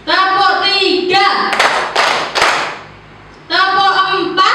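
A roomful of adult participants claps in unison during a counted concentration exercise, a few crisp clap bursts heard between speech.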